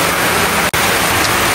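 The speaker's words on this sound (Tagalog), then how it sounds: "Ang lakas po ng ulan." Heavy rain pours down in a loud, steady broadband hiss, continuous and close, with one very brief dropout partway through and no voices.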